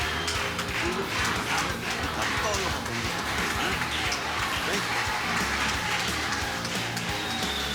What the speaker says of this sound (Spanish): un gran aplauso para el contrincante vistiendo rojo y negro, Marcos Pantera.